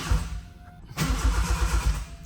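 A turbocharged Toyota 4AGE engine in a Celica build gets its first crank: a quiet pause, then a sharp click and a close, rhythmic churning of the starter that pulses for over a second.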